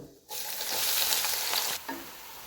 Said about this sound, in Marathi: पहिल्यांदा कांदा टाकून घेतो